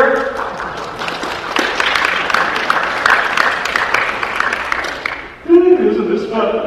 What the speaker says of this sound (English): Big round of applause for my helper here.